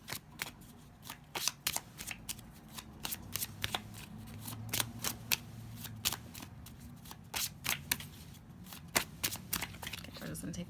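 Someone shuffles a Deviant Moon tarot deck by hand, giving repeated sharp riffling bursts in an irregular rhythm, close and clear, with quiet talk underneath.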